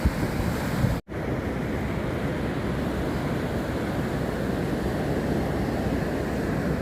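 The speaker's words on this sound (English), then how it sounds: "we've got a westerly wind blowing currently" Westerly wind blowing at the St Lucia Estuary, a loud continuous roar of gusting air and buffeting against the microphone, with one abrupt momentary cut-out near the start.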